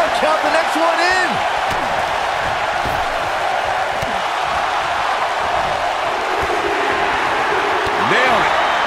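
Crowd noise in a wrestling video game, a Mortal Kombat Royal Rumble, roars as a steady loud wash throughout, with commentators talking over it.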